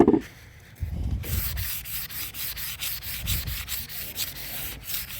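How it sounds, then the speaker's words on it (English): Hand sanding on the painted hood of a 1978 Chevy C10 pickup, a loud, close abrasive scrubbing in quick back-and-forth strokes that starts after a brief quiet moment and keeps a steady rhythm. "I have not sanded any of this stuff on this side of the hood,"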